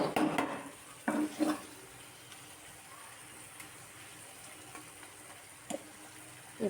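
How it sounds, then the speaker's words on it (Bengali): Fish fries in a pan of oil with a faint, steady sizzle. A few louder clatters and stirring scrapes of utensils against the pan come through near the start and again later. "দিয়েছি মাছ"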